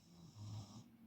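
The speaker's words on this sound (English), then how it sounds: "That's the dog snoring in the background." A dog snores softly in the background of a quiet indoor room, one faint drawn-out rumbling breath with no talk over it.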